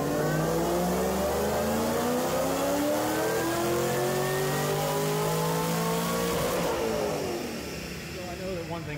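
A Gen3R-supercharged 2014 GT500 engine revs hard on a dyno, a loud, sustained roar climbing steadily in pitch before easing off near the end.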